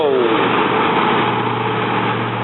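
A loud truck hauling a full trailer labors nearby, its engine droning steadily and heavily throughout with a constant low rumble and no pauses.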